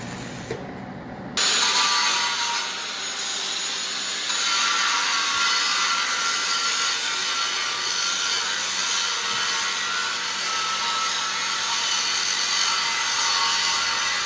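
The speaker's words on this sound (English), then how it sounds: "my cousin is grinding and prepping for welding the side that's actually really broke" An angle grinder works steel on a broken Case IH 1230 planter being prepped for welding, a sustained harsh, hissing grind that starts abruptly and carries on loud and close.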